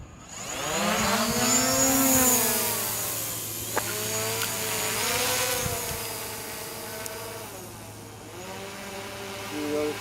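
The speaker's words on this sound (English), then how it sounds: "next part we'll pick up when the drone is launching" A drone's motors whine up in pitch as it launches for a mapping mission at Watson Lake Park in Prescott, Arizona, the buzzing tone rising, dipping and swelling again close by in open air.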